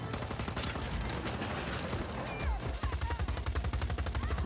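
Sustained gunfire from in-game weapons in Just Cause 4, with rapid bursts and dense overlapping shots throughout, loud and close, plus sharp heavier blasts near the end.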